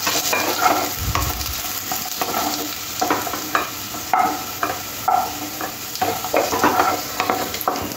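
Potato pieces frying in oil until red-brown, a constant sizzle broken by regular spatula scrapes and stirring strokes, close and fairly loud.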